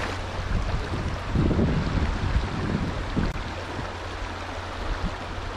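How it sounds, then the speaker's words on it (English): Wind blowing outdoors and buffeting the microphone in a steady, broad roar with low gusty surges, alone and with no talk. "A wind's screwing with me."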